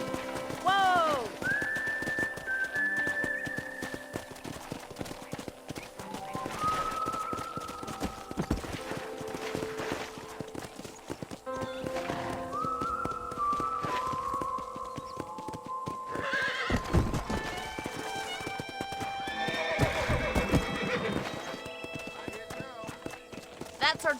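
Horses in Red Dead Redemption clip-clop along at a riding pace, with repeated loud neighs and whinnies over the hoofbeats, while characters talk throughout.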